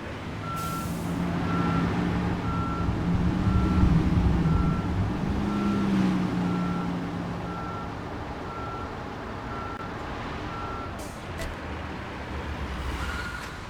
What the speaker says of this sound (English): Let me go ahead and move the dump truck to make my life a little bit easier.